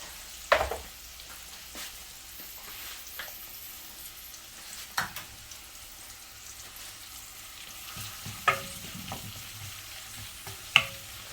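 Onion and a green chili sauté in a pan with a faint, continuous sizzle, broken by a few sharp, sparse stirring clacks spread across the stretch, with no talking.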